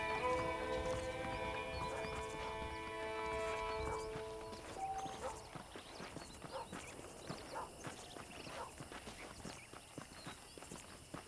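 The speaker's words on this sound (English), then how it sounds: "The horses are saddled up over here." Horses in the Red Dead Redemption video game clip-clop along at a walking pace, the hoof beats steady and moderately close over a soft ambient backdrop, with a musical tone fading out in the first few seconds.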